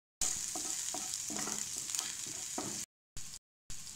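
Crushed chili and garlic hit hot mustard oil with cumin and asafoetida for a tempering. The result is a loud, continuous frying hiss crackling with small pops, broken by two short silences near the end.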